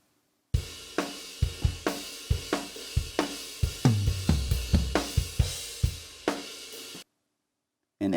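An unmixed drum cover of the worship song Way Maker, with dry, close kick, snare and tom hits in a steady pulsing rhythm and cymbal wash, starting and stopping abruptly.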